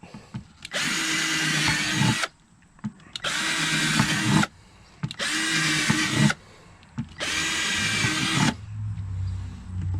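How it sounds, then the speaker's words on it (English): A power drill bores holes in the bottom of an RV battery box, with four loud, steady bursts of whirring separated by short pauses, close up and without speech. "Drill 4 holes in the bottom of it."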